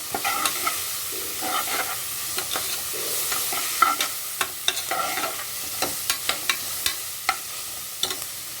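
Onions fry in a pan for a mutton kuzhambu, a steady sizzle beneath repeated sharp scraping and tapping stirring strokes, close and without talk.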